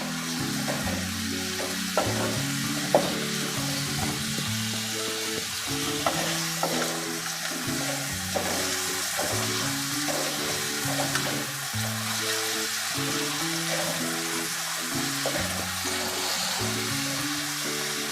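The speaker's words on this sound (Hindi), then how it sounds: "अब मैं इसको अच्छी तरीके से फ्राई करूँगी ताकि हमारे प्याज जो है अच्छे से कुक हो जाए।" Onions fry in hot oil in a pan, giving a continuous sizzling hiss while a utensil stirs and scrapes them in a steady, repeated rhythm, close by and with no talking.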